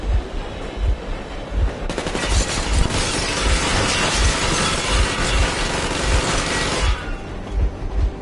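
Warning shots from a machine gun in a video game tear out in a long sustained burst of rapid loud fire lasting several seconds, over a steady thumping engine rhythm.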